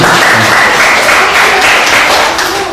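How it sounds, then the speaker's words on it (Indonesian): Loud, sustained audience applause at a talk-show style discussion event, a dense wash of many hands clapping close by and continuing steadily before easing slightly at the end. "Terima kasih, tepuk tangan buat Bang Rudi"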